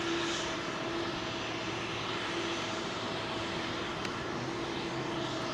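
A WestJet airliner departs Heathrow runway 27L, a steady broadband engine roar holding at a distance throughout with no voices.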